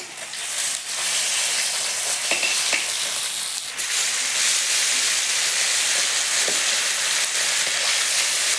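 Fish frying in a hot pan with oil, ahead of a Bengali bata fish curry with poppy-seed paste. A steady, dense sizzle runs close and loud throughout, with faint clinks and stirring scrapes and no talking.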